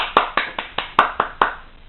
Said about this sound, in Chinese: 掌声谢谢，好吧？